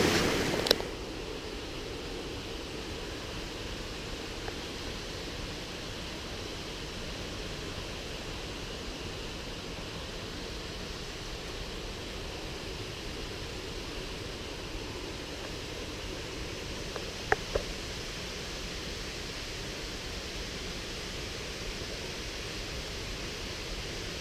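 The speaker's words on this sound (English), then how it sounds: "This is called Binna Burra Creek, Binna Burra Falls, and it's on the Coomera Creek." Binna Burra Falls on Coomera Creek pours steadily as a broad, unbroken rush of water, moderately distant and even throughout, with a couple of faint clicks near the start and partway through.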